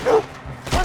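Dogs in the Red Dead Redemption 2 video game give two close, sharp barks, separated by a short pause.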